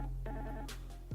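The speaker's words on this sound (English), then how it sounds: "And I see my desk phone is ringing over here." A Yealink W60P cordless DECT IP desk phone rings with an internal call, giving a brief, steady electronic ring tone that stays close and clear.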